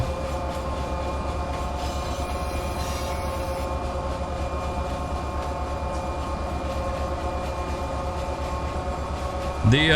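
A freight train locomotive in the Run 8 Train Simulator video game rumbles steadily with a constant, loud low drone and faint rhythmic rail clatter throughout, with a short squeal at the end.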